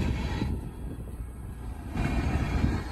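A CSX freight train passing Depew Amtrak station, a loud continuous low rumble of rolling cars close by with steady wheel noise and no talk.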